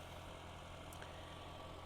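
A 2026 Renault Clio idles at night, heard from outside the car: a faint, steady low engine hum that stays even throughout, with no talking.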